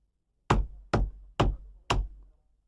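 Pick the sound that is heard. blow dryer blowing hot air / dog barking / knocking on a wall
knocking on a wall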